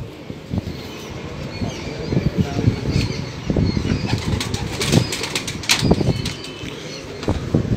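Pigeons flap their wings in repeated bursts at a pigeon show, with fluttering and rustling throughout, clustering loudest in the middle and later, over busy outdoor background noise.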